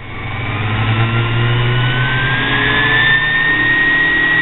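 A homemade mini grinder winds up, its motor whine rising steadily in pitch and loudness over a few seconds, close and alone.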